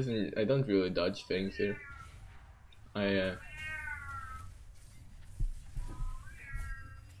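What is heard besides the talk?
cat meowing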